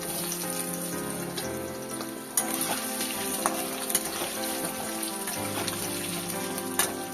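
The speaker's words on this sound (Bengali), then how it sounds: "আলুগুলো দিয়ে দিলাম আলুগুলো দিয়ে একটুখানি ভাজা ভাজা করতে হবে" Potatoes sizzle steadily in a hot pan, a constant crackling fry broken by several sharp scrapes and knocks as they are stirred.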